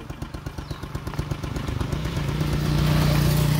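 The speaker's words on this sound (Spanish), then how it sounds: "Espérate que ahí viene moto, espérate." A motorcycle first putters in a steady rhythm, then its engine note swells into a louder, continuous drone as it draws closer.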